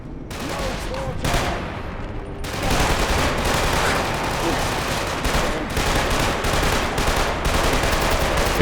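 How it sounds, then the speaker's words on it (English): Sustained hip-fire gunfire from Killzone 2, played on the RPCS3 emulator, rattling in dense continuous bursts with scarcely a pause, briefly thinning near the start before staying loud throughout. "firing from the hip from this far away, not advised"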